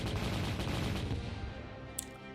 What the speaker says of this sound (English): they just shot. I heard 30 bullets be fired